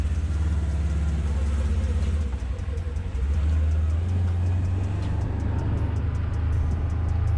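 2022 Polaris General Premium side-by-side driving in high gear and one-wheel drive, a steady close low engine rumble with a brief dip in the middle, no voices.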